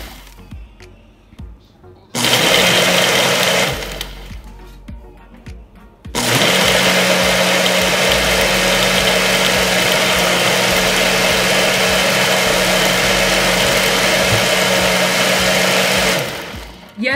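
Ninja blender on its extract setting pulverizing spinach, whole cherries with pits and lemons with seeds: a short loud whir, a pause, then a long sustained high-powered roar that stops abruptly, close and loud.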